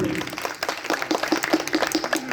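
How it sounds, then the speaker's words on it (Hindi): Listeners at a humorous Hindi poetry gathering clap for a performer, a lively crowd patter mixed with voices and some tonal sound underneath. "तो एक बार हमारी बहन के लिए ताली बजा दीजिए।"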